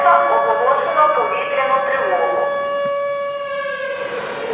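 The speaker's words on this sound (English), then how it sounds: "there's an air siren going on" A wartime air raid siren wails over Odesa, a loud sustained tone with layered harmonics rising and falling slowly, dominating the scene while voices can be heard beneath it.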